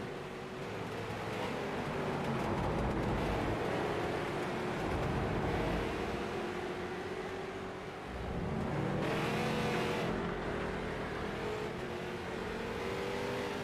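NSRL SS race cars lap WeatherTech Raceway Laguna Seca, producing a continuous, fairly loud engine roar. The revving pitch rises and falls, dips briefly, then surges again.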